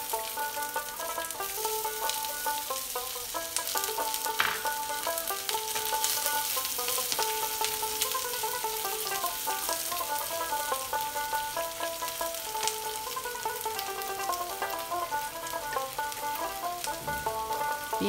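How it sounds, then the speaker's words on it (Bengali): Chopped onion sizzles steadily in hot oil in a pan for a greens dish, a constant crackling fry with occasional stirring, heard over soft background music throughout. "এবার পেঁয়াজ কুচি দিয়ে দিলাম।"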